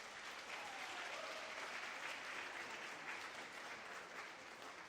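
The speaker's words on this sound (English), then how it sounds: "So round of applause for Mr. Kirkpatrick." Steady applause from an alumni event audience at a live podcast recording, even and continuous but fairly faint and distant.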